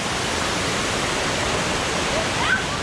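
Mantayupan Waterfall in the Philippines pours with a constant, broadband roar, steady and unbroken at close range, with a faint voice briefly heard near the end.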